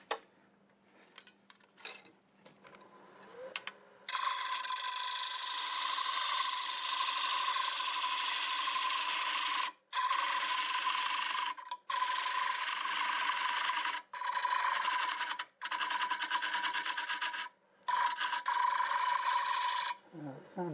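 Purple heart wood turning on a lathe, a steady rasping scrape of the tool against the spinning blank that runs for long stretches with several brief pauses, close and fairly loud.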